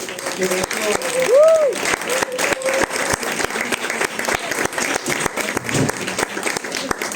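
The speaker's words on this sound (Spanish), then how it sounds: "un aplauso para Marta" An audience at a Granada education talk night applauds speaker Marta, with scattered, fairly steady claps under a murmur of voices and a brief tonal sound early on.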